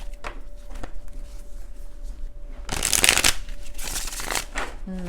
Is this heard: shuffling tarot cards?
yes